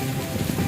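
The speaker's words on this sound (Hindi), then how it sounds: "अभी देखें कितनी तेज़ बारिश हो रही है" Heavy rain pouring steadily outside an office in a housing society in Lahore, a dense, continuous hiss and patter close by with no pauses, loud and alone without any voices.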